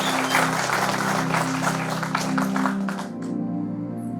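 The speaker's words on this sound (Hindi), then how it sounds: "उनके लिए जोरदार तालियां।" An audience claps for a health officer called to the stage as chief speaker at a public event, with dense sustained applause that thins and fades toward the end and no speech over it.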